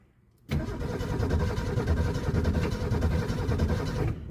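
A manual Ford Capri that has been sitting cranks over after a short quiet moment; the starter churns loudly and rhythmically close by for about three and a half seconds, then cuts off without the engine catching.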